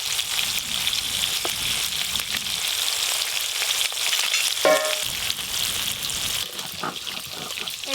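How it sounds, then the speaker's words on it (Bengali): Hilsa fish pieces fry in hot oil, giving a continuous close sizzle with occasional light stirring and clinks as they are turned. "ইলিশ মাছের পিসগুলো শুধু তেলে এপিট ওপিট নেড়ে নিলেই হয়ে যাবে।"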